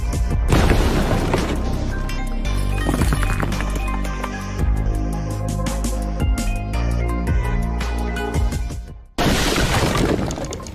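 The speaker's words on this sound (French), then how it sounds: "Le géant masque Ngil s'écroule et explose dans un bruit assourdissant." A loud explosion with crashing and shattering debris over dramatic music, a long run of booming impacts ending in a sudden cut.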